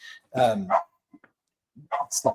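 A pet dog barking indoors: a couple of sharp, close barks, then faint yips, followed by another burst of barking near the end.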